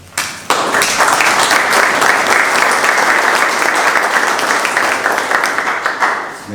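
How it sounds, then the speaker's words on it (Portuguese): Loud, dense applause from a large audience at an anniversary ceremony for a regional newspaper, a round for an honoured guest that starts abruptly and holds as a steady wash of many hands before easing slightly at the end. "uma salva de palmas para Maria Récia"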